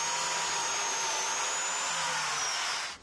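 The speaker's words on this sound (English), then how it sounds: "With this biscuit joiner, this has a set height." A biscuit joiner whines at high speed while cutting a slot in a wooden board, a steady loud motor drone with no voices that winds down at the end.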